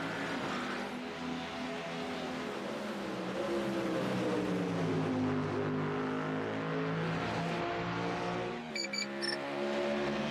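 GT3 race cars at Road America sweep past in a loud, continuous pack, engine notes rising and falling as they go by, with a brief burst of higher shifting tones near the end.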